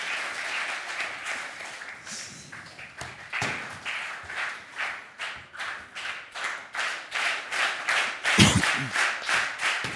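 A studio audience at a sports entertainment show applauds steadily, with the clapping rising and falling in rhythmic waves and only faint talk in the background.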